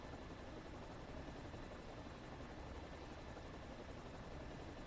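A helicopter in the video game Planet Explorers flies steadily, its dense rotor and engine roar holding at an even, fairly close level throughout with no breaks and no voices.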